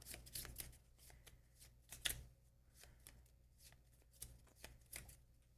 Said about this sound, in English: And then it says shuffle those back in.